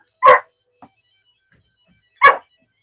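A dog barks to be let out: two sharp, loud barks about two seconds apart, with a faint short yelp between them, close by in an otherwise quiet room.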